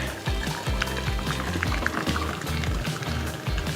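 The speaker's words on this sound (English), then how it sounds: "So obviously I'm pouring this into a glass jar, 750 ml bottle" Homemade almond milk pours steadily from a container into a 750 ml glass jar, a close, continuous gurgling and splashing stream with no talking.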